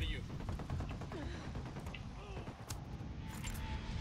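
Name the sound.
gunfire in the video game Ghost Recon Wildlands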